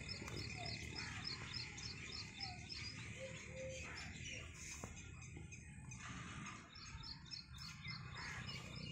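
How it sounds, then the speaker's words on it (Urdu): A dove calls close by near a canal in the early morning, its soft cooing set among steady chirping from other birds outdoors. "یہ فاختہ ادھر قریب ہی بول رہی ہے"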